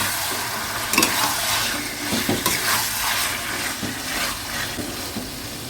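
Marinated chicken sizzles and fries in a kadai while a spoon stirs and turns it, giving steady crackling with periodic scraping strokes, close and fairly loud, no talking.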